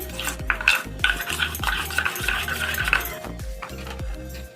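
A spoon stirs thick bajji batter in a bowl in quick, rhythmic scraping strokes, about two or three per second, close and fairly loud with no talking.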